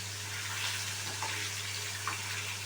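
Fish frying in oil in a pan, a steady close hiss and crackle of sizzling that holds evenly throughout with no talking.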